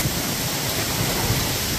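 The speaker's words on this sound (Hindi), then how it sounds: "ये देखें जी कितनी ज़्यादा बारिश लगी हुई है" Heavy rain pouring down during outdoor work in Spain, a dense, steady hiss of broadband noise that continues without a break from start to end and sits close and loud.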